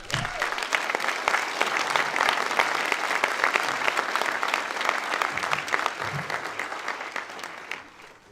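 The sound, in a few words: audience applause welcoming speaker Joy Harjo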